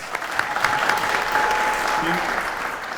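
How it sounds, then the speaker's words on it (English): Audience applause at a landlord open house event: a roomful of people claps steadily for the whole stretch, with a few faint voices and a brief tone heard under the clapping. "let's give Joy another big round of applause."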